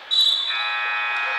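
A basketball game buzzer sounds in a gym, a sustained bright electronic tone that starts abruptly and holds steady, loud and close.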